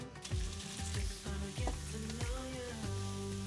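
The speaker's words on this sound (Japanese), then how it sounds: "フライパンをしっかりと温めたら、まずキャベツを入れていきます。" Cabbage sizzles in a well-heated frying pan, a steady crackling fry with scattered clinks and scrapes of utensils, close and fairly quiet.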